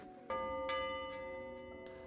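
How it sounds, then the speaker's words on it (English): A dinner bell rings out twice in quick succession, bright and resonant with long ringing overtones that fade slowly, followed by a softer third strike near the end. "There's the dinner bell."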